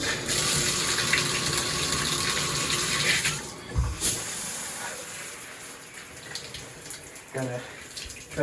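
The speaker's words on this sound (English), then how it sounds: "I'm turning the water back on" A water tap turned back on outdoors, running in a steady, broad rush for several seconds, then thinning and splashing irregularly with a few brief knocks and spurts toward the end.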